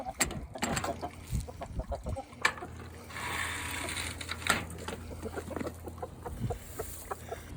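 Chickens cluck and chatter near a coop on a cold morning, irregular short calls close by, with a person speaking softly and some shuffling.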